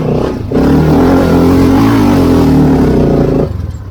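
A small Polaris cross kart engine revs hard while driving. It gives a loud, close, sustained buzzing drone that rises after a brief dip and then drops off near the end.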